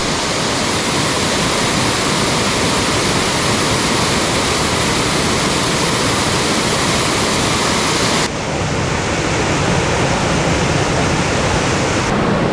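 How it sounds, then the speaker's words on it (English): Water spills over the rocky lip of natural rock water holes, giving a loud, continuous rushing roar that stays steady and close throughout, with no voices. "about this much water coming over the edge"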